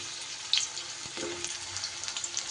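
Freshly cut, washed potatoes dropped into hot rice bran oil give a short burst of crackling sizzle, close and moderately loud, with a few sharper pops.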